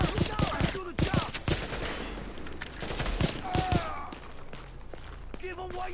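Rapid gunfire in the shooter game Tom Clancy's The Division, sharp repeated shots and bursts crackling close, with shouted voices over the fighting.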